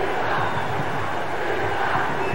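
A Cruzeiro football crowd at a 1995 Brazil versus Romania friendly chants the goalkeeper's name in loud, rhythmic unison, a dense roar of massed voices filling the stadium.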